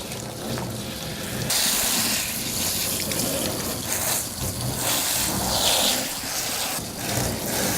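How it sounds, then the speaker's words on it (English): Hose water rinsing down a dog's legs during a bath, a steady close rushing spray that swells and shifts as the stream moves, with no talk. "And I rinse down his legs."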